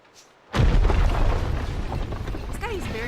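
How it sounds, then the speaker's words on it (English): A sudden, loud explosion bursts out in the video game Ni no Kuni II, then settles into a heavy, sustained rumble that fills the rest of the moment, with no talk over it. "Was that an explosion?"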